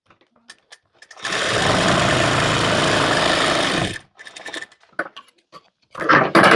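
A sewing machine stitches a strip onto a blouse in one continuous rapid whirring run of about three seconds. Faint handling clicks and rustles come before and after it.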